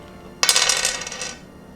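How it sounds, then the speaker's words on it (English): Dice tumbling across a board game table, a sudden clattering burst of small hard knocks and rattles that fades out over about a second, alone and close. "I'll roll the dice again."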